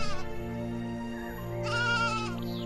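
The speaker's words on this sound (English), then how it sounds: "The rich man had flocks and sheep in great abundance." Sheep bleating in a wavering, harmonic cry, one long call followed by a higher second bleat, close and clear with a steady low hum underneath.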